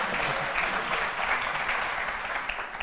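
Steady, dense applause from an audience, a continuous wash of clapping at even loudness with no other sounds standing out.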